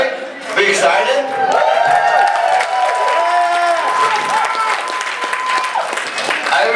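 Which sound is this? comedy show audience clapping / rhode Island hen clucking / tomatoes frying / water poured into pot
comedy show audience clapping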